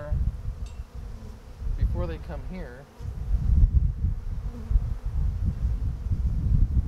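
Bees buzz in a dense, steady drone during a hive transfer, fairly close, while people talk briefly over it.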